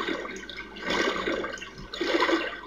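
In the Afraid of Monsters video game, water sloshes and splashes as a player wades through it, in uneven surges that rise and fall, close and fairly loud with no talk.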